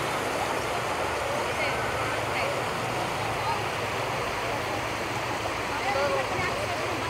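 River water flowing past a crowded family campsite, a steady broadband rush that stays constant throughout, with faint voices mixed in the background.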